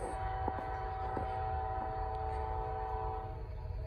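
Norfolk Southern freight train NS 154 on the Charlotte District, its horn sounding loud and sustained over the steady rumble of the passing train, with no talk.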